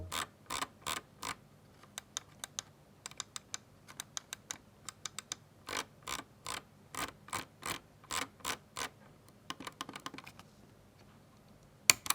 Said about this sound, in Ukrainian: Колесо, до речі, має дуже круті чіткі відсічки, і я особисто кайфую від звуку